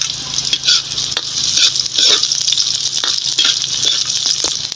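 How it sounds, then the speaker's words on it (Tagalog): Garlic, onion and chili sauté loudly in a pan, a steady bright sizzle broken by scraping stirs and light metallic clinks of a utensil, heard up close without talk. "mag-igisa na tayo. Bawang, sibuyas at sili, isabay lang natin."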